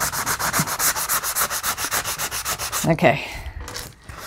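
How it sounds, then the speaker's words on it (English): Sanding block rubbed in rapid back-and-forth strokes along the corners of a handmade hardcover notebook, a steady close scratchy rhythm that breaks off near the end as a voice speaks briefly. "So maybe sometimes just use a sanding block."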